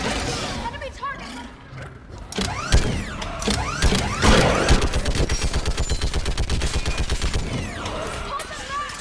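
A mounted gun in the video game Mass Effect 3 fires rapid repeated bursts during a battle on Thessia, building into a steady stream of shots, with mechanical creaks and game voices shouting over it.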